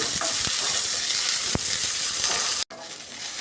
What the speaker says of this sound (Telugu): వీటిని అంతా కలుపుకుంటూ మనం ఉల్లిపాయలు మగ్గేంత వరకు వేయించుకోవాలి